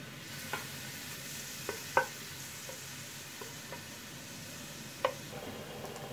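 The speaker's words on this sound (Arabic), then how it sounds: "هلا حضيف أول شي البصل والثوم،" Onion and garlic frying in a pan, a faint soft steady sizzle with a few sharp utensil clicks and taps.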